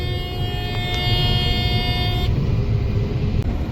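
A combine harvester's engine revs up as the throttle is opened for corn harvesting, a dense, loud mechanical roar with a steady whine that rises and then holds.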